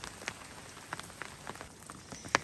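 Light rain patters on the ground along the Colorado Trail near tree line just after a hailstorm, a soft steady hiss broken by scattered close drips and taps, one louder splat near the end, with no voices.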